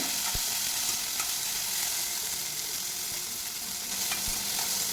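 Green chillies and onions fry in a pan for shavige bath, giving a steady, even sizzle with faint stirring clicks throughout.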